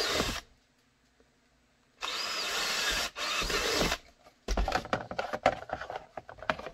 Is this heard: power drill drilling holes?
yes